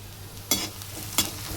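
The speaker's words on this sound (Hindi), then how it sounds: "आलू प्याज और मिर्च अच्छा से फ्राई हो जाइए" Potatoes, onions and green chilies sizzling in a hot pan, a steady crackling fry broken by two sharp scraping stirs of a spatula, close and fairly loud, with no voices.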